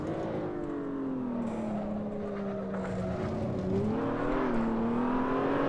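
A race car engine in the video game Assetto Corsa drones loudly and continuously, its pitch dipping and then rising again as it accelerates, with no other sounds.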